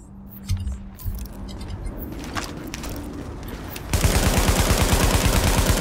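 Automatic weapon fire in The Division video game, a loud rapid burst of evenly spaced shots that starts abruptly partway through and continues, after quieter clicks and handling noises.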